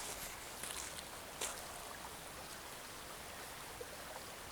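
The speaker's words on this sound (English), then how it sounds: "Let me get a wee view of the river here." A river at the Sannox stepping stones on the Isle of Arran, running low on water, gives a steady, close, even rushing wash with no voices over it.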